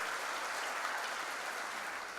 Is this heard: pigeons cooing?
no